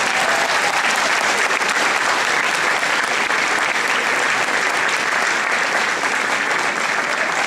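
A hall audience at a French mayor's New Year address breaks into loud, sustained applause, a dense unbroken wash of clapping from many hands with no speech over it.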